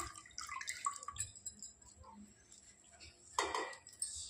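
Fresh coriander and mint leaves are rinsed in water for chicken dum biryani, giving quiet splashes, drips and clinks of a bowl or utensil in short bursts, with a louder splash and rattle near the end.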